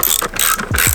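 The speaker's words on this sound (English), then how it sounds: "grab your 10mm socket and wrench, and you have to take out these two 10mm right here" A ratchet socket wrench clicks briskly as it backs out 10mm taillight bolts on a BMW, a close, loud burst of rapid ratcheting lasting about a second, with no talking.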